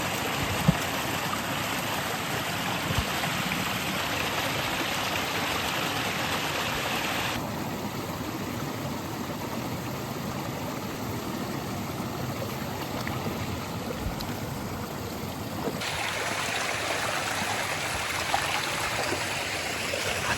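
Highland burn flowing steadily, a continuous broadband rush of stream water over rocks, close and loud throughout with no voices.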